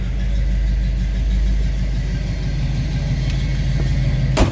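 A 1957 Chevrolet Bel Air engine idles steadily nearby with a low, even rumble, followed by a short sharp click near the end.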